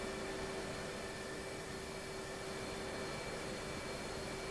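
An F/A-18C jet engine roars on a carrier in the DCS flight simulator as it throttles up, a loud continuous whine and rush holding steady throughout with no talking.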